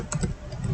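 Quick keystrokes on a computer keyboard during database data entry, a few close clicks over a low background hum, with no talk.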